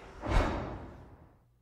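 Elevator stop effect in game audio: a single heavy whooshing thud that rises quickly, peaks, then decays smoothly into a low fading tail over about a second.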